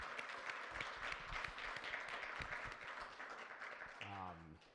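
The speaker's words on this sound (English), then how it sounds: "can we please give a big round of applause for Adam Kampanick" A live audience at a 1 Million Cups event applauds steadily, with dense clapping filling the room for several seconds and a brief voice near the end.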